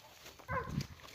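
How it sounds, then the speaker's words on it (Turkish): Dogs in a rural Turkish setting, one short bark or yip heard faintly and at a distance against quiet background noise. "köpekler"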